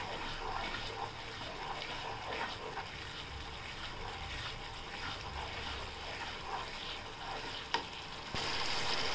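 A curd-based cluster bean curry is stirred in a pan, a continuous soft bubbling sizzle with faint scraping throughout, fairly quiet and close with no voices.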